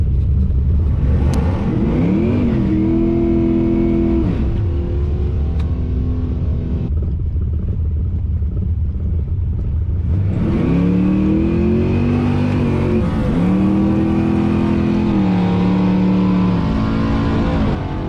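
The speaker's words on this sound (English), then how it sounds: "The engine started breaking up at the top of first gear" A loud drag race car engine roars and revs continuously, climbing in pitch, dropping briefly, then surging again in steady accelerating runs with no talking; the engine breaks up at the top of first gear.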